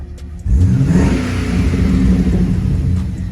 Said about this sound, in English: Y'all want to hear them pipes? Because he got a little rumble in the jungle in this thing.